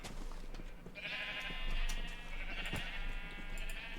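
Sheep in a Minecraft multiplayer world bleat in a drawn-out, wavering call, one clear bleat followed by another, fairly close and loud, with soft game ticks and taps in the background.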